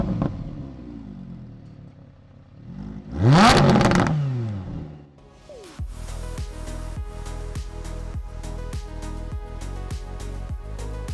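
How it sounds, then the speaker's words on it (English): A Lamborghini Huracan Spyder's naturally aspirated V10 with race exhaust revs sharply upward, then settles into a deep, rhythmic idle with repeated throttle blips, loud and close. "listen to that enormous growl from a V10 naturally aspirated engine."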